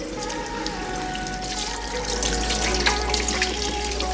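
Water runs steadily from a tap into a bottle holding beans for cleaning, a close continuous pouring rush with a low hum underneath.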